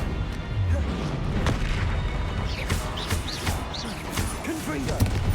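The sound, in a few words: Expelliarmus disarming spell cast in Hogwarts Legacy video game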